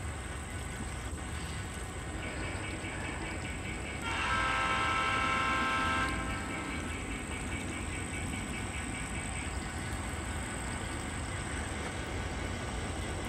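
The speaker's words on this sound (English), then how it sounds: "No Fork Southern train going through town, so if I hear him blow, I'll stop talking for a second." Norfolk Southern freight train rolling through a small town on a hot, humid day, a steady rumble throughout with a brief louder tonal horn-like swell near the middle, heard at a moderate distance with no talking.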